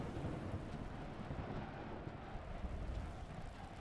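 Thunderstorm in Smalland: Survive the Wilds, a steady low rumble of thunder mixed with rain and wind noise, continuous and moderately quiet with no speech.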